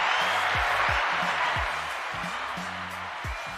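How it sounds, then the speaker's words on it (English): Sustained applause and cheering from a podcast after-party audience, with a steady wash of clapping and a pulsing low beat underneath. "Give yourselves a round of applause because you could be anywhere right now, but you're hanging out with us"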